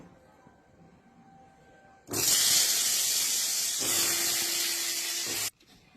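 Pointed gourd pieces coated in salt and turmeric drop into hot oil, setting off a loud, steady frying hiss that rises abruptly and holds for a few seconds before cutting off sharply.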